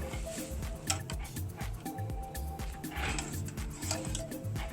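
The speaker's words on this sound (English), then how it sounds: "Add them to hot boiling water" Yellow noodles for mee kari are loosened in a pot of hot boiling water, giving soft, quiet wet squishes and splashes with a light ticking, close and low in level.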